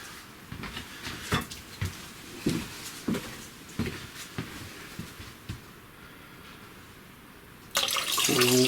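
A series of light knocks and clatters gives way near the end to a sudden loud rush of water pouring into a jug, prepared for a Merlot wine kit.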